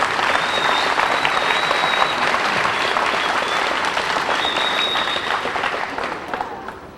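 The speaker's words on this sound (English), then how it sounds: "let's give a round of applause to our student program participants" Sustained audience applause for student program participants at a junior high school's 40-year celebration, a loud, dense crowd clapping that holds steady for several seconds and then slowly tapers off.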